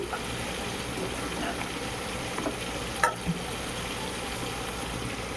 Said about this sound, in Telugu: ఆ తర్వాత కొంచెం ఆయిల్ వేసి ఇలా ఫ్రై చేశాను అనమాట చూడండి ఎలా ఉందో